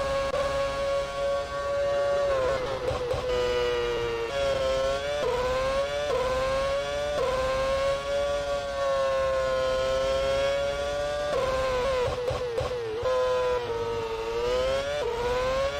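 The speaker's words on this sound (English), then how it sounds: "Let's listen to this beautiful engine in the back of Williams." Onboard a sim-racing Williams Formula 1 car from the 2009 season, the high-pitched engine wails steadily and rises through repeated upshifts, with brief lifts and revs between gears, loud and close throughout.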